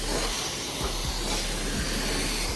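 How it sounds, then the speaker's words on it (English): Steady pressurized spray of clear coat onto the hood of an Acura TSX at a self-service car wash, a continuous close hiss that holds even throughout with no talking. "we definitely need that clear coat for the hood"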